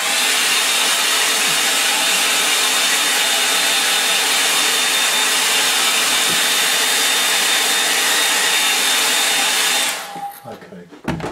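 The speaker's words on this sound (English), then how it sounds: "I'm going to use my hairdryer again" A hair dryer whirs loudly and steadily with a constant high whine, then cuts off near the end, leaving faint room noise.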